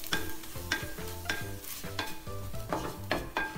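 Turmeric, coriander and Kashmiri chilli powders stirred in a clay pot over a low flame for fish curry, repeated scraping stirs in a steady rhythm over a gentle sizzle, close and fairly quiet.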